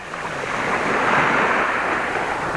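Waves wash onto a warm southern sea shore in a steady, broad rushing surge that swells and holds, close and fairly loud, with wind noise mixed in and no talking.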